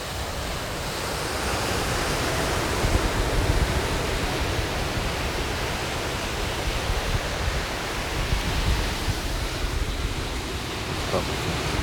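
Sea waves breaking on Nai Harn Beach in Phuket, Thailand: a continuous broad roar of surf with rumbling wind buffeting the microphone, steady and loud throughout with slight swells.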